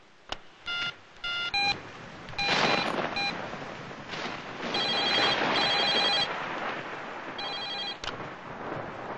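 An office telephone in a Telugu film scene rings with short repeated electronic tones, some beeps and a dial-like burst, alongside louder noisy background sound and movement.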